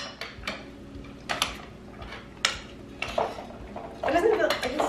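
A spoon clinks and scrapes against a bowl while stirring an ice cream sundae, giving a few sharp taps and then a busier burst of clatter near the end, with voices talking in the background.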